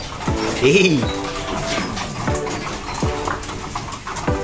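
Racing pigeons cooing in repeated low, throaty calls at an even pace, close by, over faint background noise.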